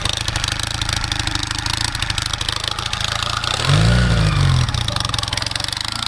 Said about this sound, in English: That's just idling.